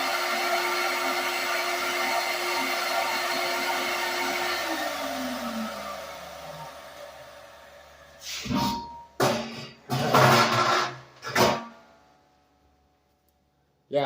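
The filter blower of a weld kit whirs steadily nearby, then winds down with a falling tone, followed by several loud, irregular bursts of noise before the clip goes quiet.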